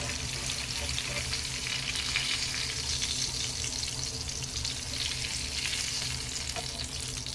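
Chicken 65 fries in hot oil with a dense, steady sizzle that stays even and close throughout.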